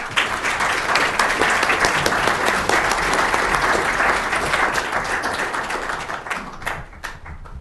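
Audience applause welcoming a keynote speaker at a conference on the International Criminal Court, steady clapping from a full room that holds for several seconds and then thins out toward the end.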